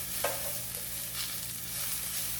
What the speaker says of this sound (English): these are sauteing rather quickly